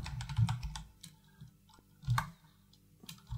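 Keys clatter on a computer keyboard in slow, uneven bursts of close clicks with brief pauses, while someone fills in a Pathfinder tabletop character sheet; no talking.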